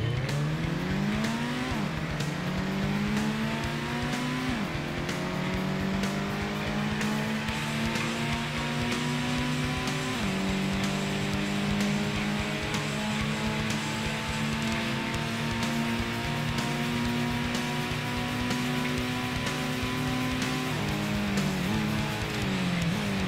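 Gran Turismo racing car engine on the PlayStation 1, droning loud and steady as it climbs through gears, the pitch rising and then dropping at each shift about every five seconds, with no talk over it.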